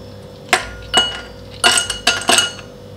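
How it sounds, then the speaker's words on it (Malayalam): Ice cubes drop into a glass for a blue lagoon summer cooler, about five sharp clinks in quick succession, close and clear against a quiet background. "കുറച്ച് ഐസ് ക്യൂബ്സ് ഇടാം."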